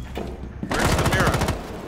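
Desert Eagle pistol shots in Rainbow Six Siege, a quick pair of loud gunshot bursts close by, the second followed by a ringing tail.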